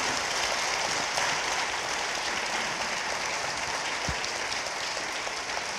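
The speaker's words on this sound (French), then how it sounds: "On vous applaudit, on vous remercie." A conference audience applauds as the talk ends, a dense, even wash of many hands clapping that carries on steadily from start to finish, with no voices on top.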